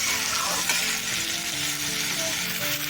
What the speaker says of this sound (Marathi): थोडंसं त्याला परतून घेते एक दोन ते तीन मिनटं